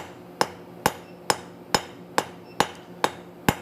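A cross peen hammer strikes hot metal on an anvil in an evening forging session, eight sharp ringing blows at an even pace of roughly two per second, close and loud with no talk.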